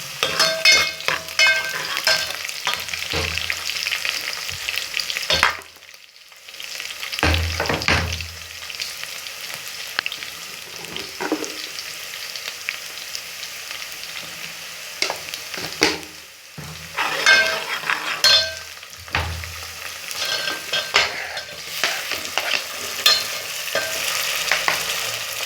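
Whole garlic cloves fry with browning onions in about a cup of hot oil, giving a steady close sizzle with stirring scrapes throughout and a brief lull near the middle.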